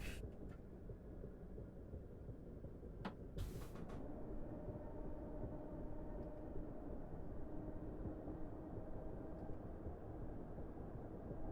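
A steady low rumble of a video game train rolling along the tracks into a station in Train Simulator, with a few brief clanks and squeals near the start before settling into a continuous drone.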